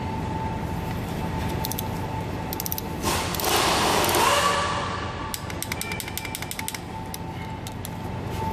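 A socket ratchet clicks while tightening fuel pump bolts on a 6.0 Powerstroke diesel engine, giving quick bursts of sharp, rapid clicks near the start and a longer rattling run toward the end, close and clear over a steady background hum.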